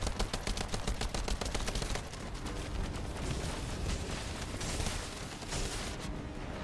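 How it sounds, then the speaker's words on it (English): Continuous rapid assault rifle fire in The First Descendant, a dense stream of close, loud shots that hammers on steadily, briefly eases, then continues before tapering off. "We need to rely on consistent damage from our assault rifle."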